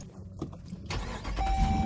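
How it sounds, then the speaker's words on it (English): A Dodge Durango R/T with a 5.7 liter V8 cranks and fires up, giving a quiet rustle followed by a sudden rumbling catch into a steady, low idle with a faint whine. "That's the V8 starting up."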